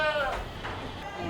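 A young Boer goat gives one short, wavering bleat close by on a goat farm, with people talking over it.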